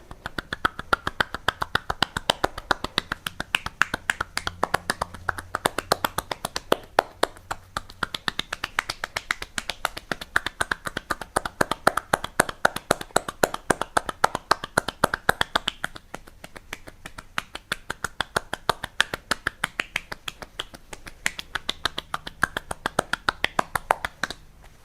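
Cupped palms tap rhythmically on a person's lower back during a sciatica massage, producing a long, fast, steady series of hollow claps, close and even, with a few brief pauses and no talk.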